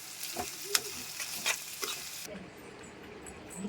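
A spoon scrapes and stirs dried fish curry with turmeric and salt in a hot pan, close bright sizzling with a few clinks against the metal, then a quieter, softer sizzle in the final second, no talking.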